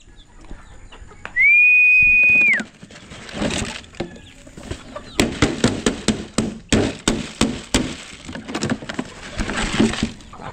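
A single sharp, steady whistle rises and holds for about a second, followed by a busy run of knocking, clattering sounds with faint background noise.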